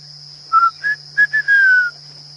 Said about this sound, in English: There's a couple of them calling fiery-necked nightjars.